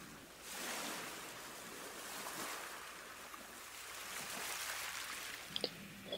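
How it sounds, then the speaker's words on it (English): Ocean waves roll onto the shore as a soft, steady wash of surf, faint and distant, rising and falling gently with no voices. "the waves rolling back and forth with the tide"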